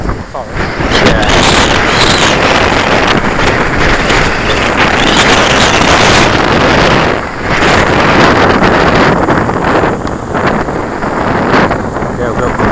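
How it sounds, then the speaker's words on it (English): Strong wind buffets the microphone in a loud, continuous roar with rushing gusts outdoors, briefly easing near the middle before building again. "Should get out of the wind up here, hopefully."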